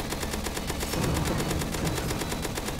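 Roblox video game weapons fire in fast automatic bursts, a loud, evenly spaced stream of rapid shots that runs without a break from start to finish.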